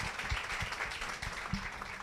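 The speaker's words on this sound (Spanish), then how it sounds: "Den un aplauso" Church congregation clapping at an evening Bible study, a dense steady patter of many hands with a few heavier low thumps, moderately near and continuous for the whole span.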